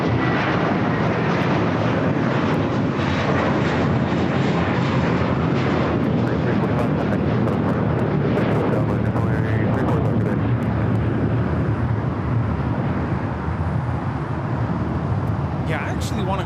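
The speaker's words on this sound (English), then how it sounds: "It's that Coletta Air DHL 777 freighter." A Coletta Air DHL Boeing 777 freighter arrives at LAX from Anchorage, its loud, broad jet roar filling the air continuously, with no talk over it.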